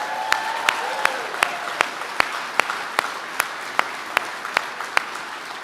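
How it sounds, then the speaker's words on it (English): Audience applause at an Army retirement ceremony honoring soldiers with 95 years of combined service, made of sparse, evenly spaced individual claps standing out sharply from a quiet, reverberant room rather than a dense roar. "Let's give them a round of applause"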